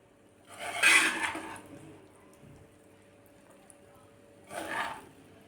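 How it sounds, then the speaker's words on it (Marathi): Pasta is sautéed and stirred in a pan, giving two short scraping, sizzling bursts of a spoon against the pan, separated by a quieter stretch of faint background noise. "दोन तीन मिनटं आपण हे परतून घेऊया छान व्यवस्थित"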